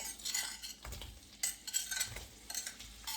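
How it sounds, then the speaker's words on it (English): Hot and mild sausages drop into a frying pan already holding seasoned potatoes, bringing short bursts of sizzling hiss alongside utensil scrapes and clinks, close and moderately loud. "So we're going to go ahead on and put our sausages in."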